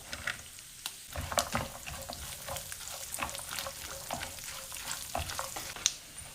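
Coconut pieces, cashews and raisins frying in ghee for Onam payasam, a steady crackling sizzle with spoon scrapes stirring through it, close and fairly quiet.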